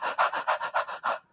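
A person imitates a dog panting, a quick run of about seven rhythmic, breathy huffs, close and fairly soft with no other sound.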